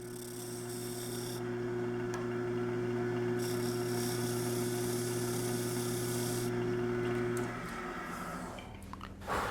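A wood lathe turns a wooden box while its shoulder is cleaned up, giving a steady low motor hum with a hissy cutting texture on top that continues evenly and then winds down near the end, with no speech.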